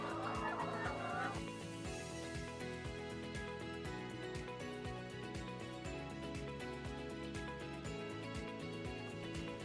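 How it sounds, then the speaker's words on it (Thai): Laying hens cluck at a chicken-raising learning station with a louder squawk at the start, then repeated clucks and calls over a steady background hum. "ฐานการเรียนรู้ที่ 4 การเลี้ยงไก่ไข่"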